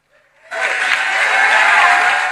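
Applause from an audience after an applause line in a political speech, starting late with a hesitant murmur and then breaking into a loud, steady, dense wash of clapping that holds to the end.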